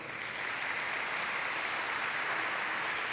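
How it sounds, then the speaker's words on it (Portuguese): An audience at a Christian faith and parliament gathering breaks into steady, even applause, a uniform wash of many hands clapping at moderate distance with no voices over it. "Intentamos un aplauso ahora"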